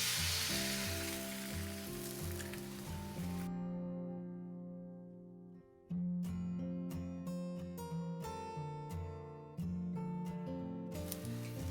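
Eggs sizzle and fry steadily in a steel pan beside bacon for a made-from-scratch breakfast, the crackle continuous and close, with a few sharp clicks and a brief dip midway.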